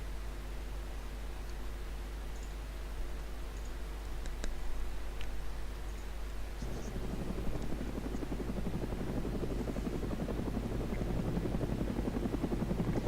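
A helicopter in the Arma military video game drones steadily with a low rotor hum, growing rougher and more thumping about halfway through, with faint ticks and clicks over it and no talking.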